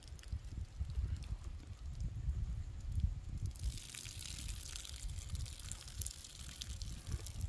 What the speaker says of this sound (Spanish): Vamos a echarle más agua